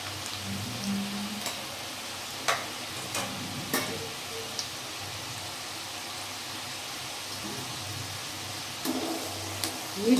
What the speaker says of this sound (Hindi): डाल के इसको धीरे धीरे तलेंगे।